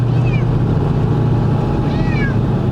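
A cat meows twice inside a moving car, short high cries near the start and end over the loud, steady rumble of road and engine noise.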